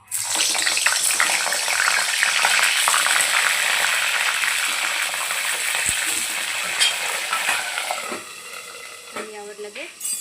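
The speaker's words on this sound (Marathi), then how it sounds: "तेल बघा आपलं छानपैकी असं तपलेलं आहे आता आपण याच्यात वांगे टाकूया" Eggplant pieces dropped into hot oil for a spicy Maharashtrian brinjal curry: a loud, dense, continuous sizzle right from the start, steady for about eight seconds, then easing slightly, with faint stirring and occasional clinks near the end.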